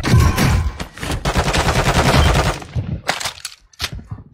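Video game gunfire crackles in dense, rapid bursts through most of the stretch, loud and close, then breaks into a few sharper isolated shots toward the end.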